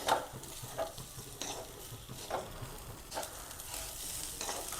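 Rice being sautéed in a pan, a faint, even sizzle with rhythmic scraping strokes of a spoon repeating about every second, heard close and alone.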